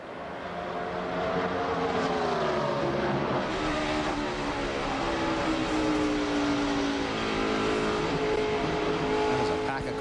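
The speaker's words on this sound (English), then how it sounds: "That is a pack of cars right there." A pack of NASCAR NEXTEL Cup stock cars roars around the Phoenix oval, engines droning loud and steady with shifting pitch as they pass, under continuous commentary voices.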